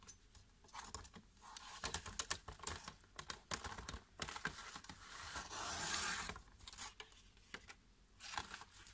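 Paper pages being cut for a small handmade Christmas envelope mini album: a string of dry, crisp cutting and rubbing strokes, close and fairly quiet, with a longer rasping pass partway through and no talk.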